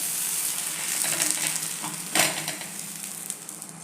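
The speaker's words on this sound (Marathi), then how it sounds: "त्याच्यावर हे थालीपीठ घालून घेऊया" Sorghum-flour thalipeeth flatbread sizzles on a hot griddle with a steady hiss that swells into a louder burst midway before easing off.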